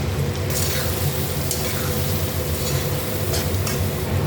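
Ground cumin and coriander fry in a pan with ginger and chili paste for a Bengali prawn, potato and papaya curry, giving a loud, steady sizzle that runs the whole time, with faint stirring scrapes.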